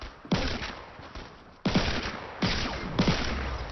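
Gunfire in the video game Fortnite as a player shoots an enemy in a lobby at Tilted Towers: loud sharp shots in separate bursts, with sustained reverberant crackle between them and no talk.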